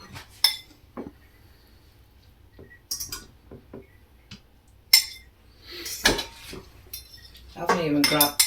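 Spooning spaghetti into serving bowls: scattered clinks and scrapes of a utensil against dishes, irregular taps and knocks with quiet gaps, ending in a busier clatter.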